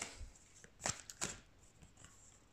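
Tarot cards are shuffled in a few short, quiet riffles and taps, close by and without talk.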